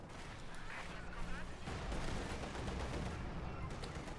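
Infantry gunfire from Grenadiers in a Company of Heroes 2 match, a sustained rattle of automatic fire and shots layered with battle noise, steady and fairly loud throughout.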